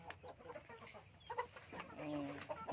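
Betong chickens cluck softly and intermittently on a farm, the short clucks quiet and fairly near against a faint outdoor background.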